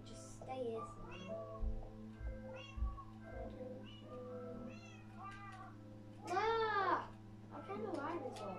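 Several cats meow in Minecraft, a string of short, rising-and-falling cries with one louder, drawn-out meow near the end, heard over a steady low background hum.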